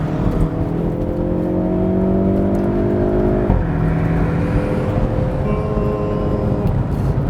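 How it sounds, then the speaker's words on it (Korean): A Hyundai Veloster N DCT hot hatchback in custom N drive mode accelerates on the road, its engine droning and rising steadily through one gear, briefly dipping at a shift and then pulling again, loud and continuous with no talking. "지금부터 벨로스터 N DCT와 함께 달려보겠습니다"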